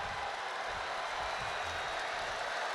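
In a WWE 2K wrestling game, an arena crowd in Chicago gives a broad, steady roar of cheering. The noise holds at an even level and there is no clear talk over it.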